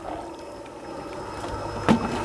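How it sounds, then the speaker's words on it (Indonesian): A biofloc fish pond aeration machine runs with a steady, continuous whirring and bubbling drone, moderately loud and unbroken, with a short, sharper surge near the end and no voices. "Nah, itu mesinnya ya, bisa dilihat dalam kondisi masih tetap bagus. Tidak pernah berhenti selama digunakan."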